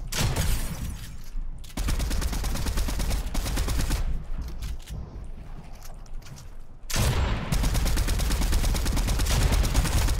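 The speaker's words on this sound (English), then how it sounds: "Dude, I love the shotgun now." Shotgun gunfire in the Fortnite video game, loud rapid bursts of shots and rattling fire packed close together, with a brief quieter gap in the middle before the shooting resumes.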